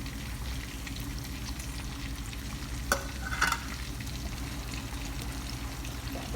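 Tuna is stirred into frying eggplant in a pan, giving a soft continuous sizzle with faint scraping and a couple of small clinks, quiet and close.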